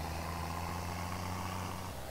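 Tractor engine in a farming video game, a steady low idling rumble, moderate and continuous with no talk.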